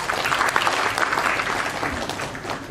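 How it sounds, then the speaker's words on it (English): Sustained applause from an audience honouring faculty at a Teachers' Day celebration at Guru Gobind Singh Indraprastha University in Dwarka, a dense, steady wash of clapping from a crowd indoors. "Let us hear a great round of applause for all of you, our respected faculty"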